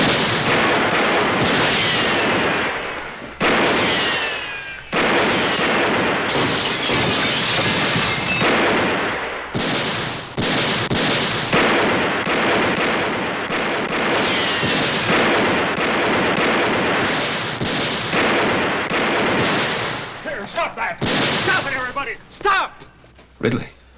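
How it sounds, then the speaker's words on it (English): In a classic Western TV scene, gunshots are fired over the heads of approaching riders as a dense, loud barrage of cracking bursts, mixed with shouting voices and commotion throughout. "Let's put a few shots over their heads."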